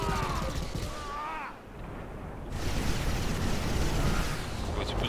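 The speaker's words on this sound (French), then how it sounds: "explosion des tempêtes ioniques" Ion storm explosions in the real-time strategy game Command & Conquer 3 give a dense, continuous roar of blasts and crackling bursts, dipping briefly partway through and then swelling again, with no talking.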